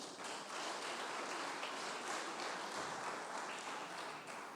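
A church congregation claps steadily at a service, a dense, continuous wash of applause with no talk over it.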